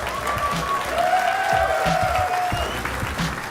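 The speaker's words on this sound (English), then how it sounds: "one more time, a round of applause." Audience at a Clash Royale tournament in Helsinki gives a steady burst of clapping, with a raised voice cheering over it.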